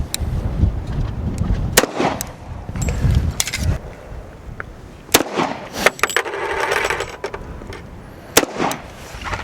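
A Tisas 1911 pistol fires 230 grain FMJ rounds at a range, giving sharp, loud, irregular shots in a string, with brief pauses and handling noise between them.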